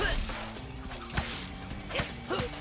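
Heavy smash attack crashing in a Ben 10 action game, a few sharp whacking impacts with swooshes over busy game sound and music, fairly close.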